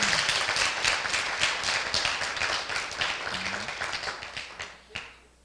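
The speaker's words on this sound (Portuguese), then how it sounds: "Palmas." Audience applause at a talk, many hands clapping in a lively burst that gradually thins out and tapers to a few last claps before falling silent.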